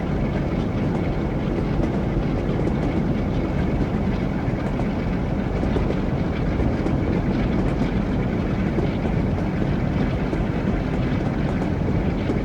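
A train in the Train Sim World game on the North Trans-Pennine route rolls along with a loud, constant rumble of wheels on rails, the clickety-clack steady throughout with no talk.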